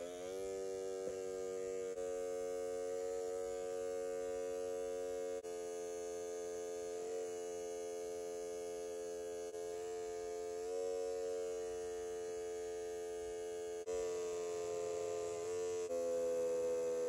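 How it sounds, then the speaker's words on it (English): An electric toothbrush mounted on a mop handle, used to lure spiders, gives off a steady, close electric buzz with rich harmonics, holding for the whole stretch with slight pitch and loudness shifts and small breaks. "This is basically an electronic toothbrush mounted onto a mop handle."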